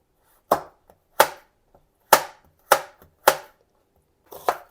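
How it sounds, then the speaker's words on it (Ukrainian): Knife chops carrots into strips on a cutting board, six distinct strikes at an uneven, unhurried pace, close and clear with no voices. "Також моркву нарізаю такими же смужками."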